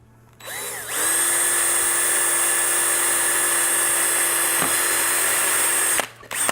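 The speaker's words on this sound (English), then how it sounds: "So I drill a hole like that." A power drill whines up to speed and runs steadily for about five seconds while boring a hole, close and loud, then spins down and stops.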